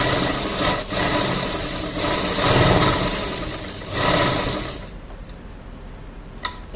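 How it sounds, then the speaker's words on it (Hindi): A sewing machine stitches a line of practice stitching, a close, steady mechanical whir that rises and falls in speed in long runs, then stops, leaving quiet room noise and a single click. "जैसे जैसे आपके हाथ कंट्रोल में आते जाएगी आप मशीन को स्पीड कर सकते हैं।"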